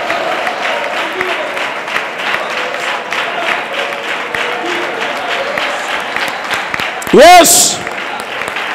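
A church congregation at a pastor's service claps in a steady, moderately loud round of applause. A voice speaks briefly near the start, and a sharp electronic squeal cuts in near the end.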